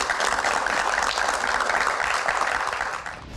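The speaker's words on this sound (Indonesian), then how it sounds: "Tepuk tangan." A steady wash of audience applause at a Q&A event, dense and even throughout before easing slightly near the end.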